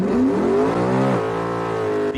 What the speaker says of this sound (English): This is Steve Bagwell's automobile about to make a run.